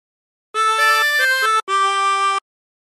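Harmonica playing a phrase with bent notes, two sustained held passages with a short breath gap between, close and clear with no talking.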